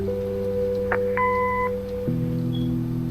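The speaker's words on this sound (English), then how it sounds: "Leave a message after the beep." Two short electronic tones sound in sequence over a steady synthetic hum, and then the pitch of the hum shifts, an answering machine beep in the video game Kathy Rain.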